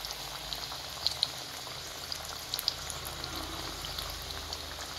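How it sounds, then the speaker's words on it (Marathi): A single vadi slipped into a small amount of hot oil fries with a faint, steady bubbling hiss, broken by a few soft pops and crackles, and no one speaks. "तेल टाकलं, मी एक वडी सोडते।"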